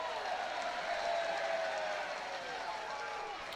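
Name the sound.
sarcastic crowd cheer at a baseball game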